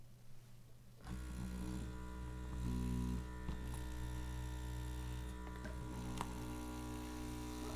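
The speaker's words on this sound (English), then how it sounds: "And on goes the compressor." An airbrush air compressor switches on after a moment of quiet and runs with a steady, close electric hum and buzz until the end.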